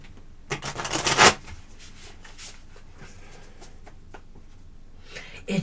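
Tarot cards are shuffled by hand in a quick riffling burst that lasts about a second, followed by softer card rubbing and slides at close range, with a few small taps near the end.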